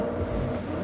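A 2010 Mazda 3 on its stock engine in Forza Horizon 3 hums and revs, a loud steady mid-pitched engine drone that holds without breaks for under a second.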